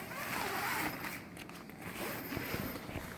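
A festival tent's zippers are pulled along, giving a close, continuous rasping zip that swells and dips over a few seconds, with faint handling noise.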